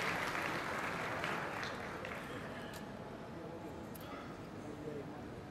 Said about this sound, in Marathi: जोरदार टाळ्या एकदा